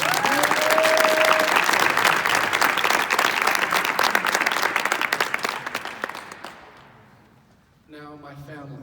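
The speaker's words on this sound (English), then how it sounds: "So can we give a round of applause for her?" Loud, sustained applause from an audience at a college athletic signing ceremony, filling the room for about seven seconds before fading out, after which a voice begins speaking.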